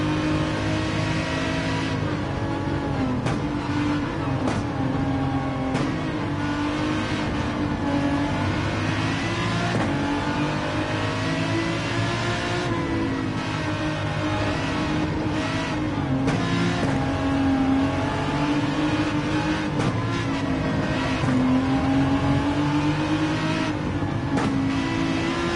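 Race cars in Gran Turismo 7 roar together at a race start at Suzuka, with several engines revving and climbing through gears in a dense, steady, loud drone and no talk over it.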